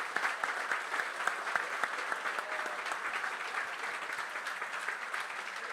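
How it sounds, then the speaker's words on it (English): Audience applause at the opening ceremony of a gas balloon race, a dense, steady round of clapping from a large crowd, sustained evenly at moderate volume. "An achievement that we pilots would like to honor with a big round of applause."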